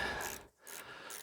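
A 1/4 inch drive ratchet turns to loosen a carbon-seized gas piston, a quick close run of faint clicking with a short pause in the middle.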